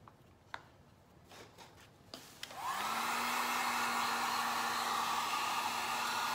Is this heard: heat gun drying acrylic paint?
yes